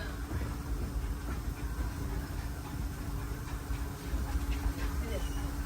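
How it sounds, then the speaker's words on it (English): A Disneyland Railroad train rolls along its rails with a steady, close rumble and a faint hiss, a constant mechanical drone that changes little from start to end, with no one speaking. "please remain seated until the train comes to a complete stop"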